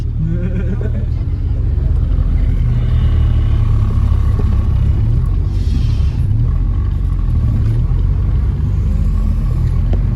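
A right-hand-drive Honda EF hatchback circling a parking lot, its engine a loud, steady low rumble heard from inside the cabin throughout, with people talking over it.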